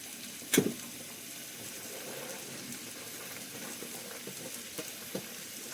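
Green peas, chickpeas and field bean seeds for a Maharashtrian undhiyu (bhogichi bhaji) tipped into a hot pan, a short sharp sizzle as they land, then a faint low frying hiss with a few light stirring taps.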